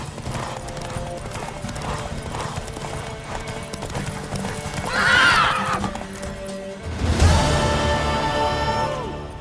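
Rapid hoofbeats of a horse racing in The Witcher 3 clatter in a steady galloping rhythm, then the horse whinnies loudly near the end, with game ambience and music underneath.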